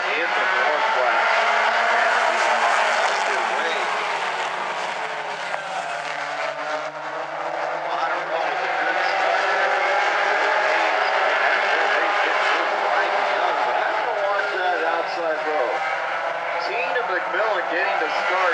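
Mini stock race cars roaring around South Sound Speedway in the Northwest during an A-main race, a continuous loud pack of engines with rising and falling pitch, and an announcer talking over them throughout.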